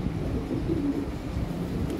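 A breeding pair of blue bar pigeons cooing softly, low murmuring coos close by against a faint airy background.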